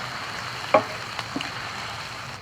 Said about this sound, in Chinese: 咱们加入半罐的啤酒